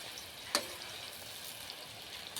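Onion frying with cumin and garlic in a pan for pav bhaji, a steady, close sizzle with a couple of sharp clicks or stirring knocks.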